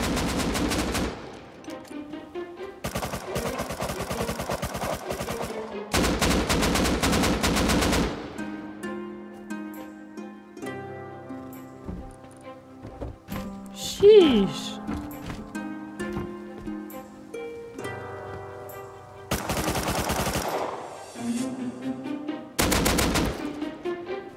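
Rapid automatic gunfire rakes a house during a siege in an online survival video game, with long loud bursts of machine-gun fire broken by quieter stretches of music and clatter, one sharp bang partway through.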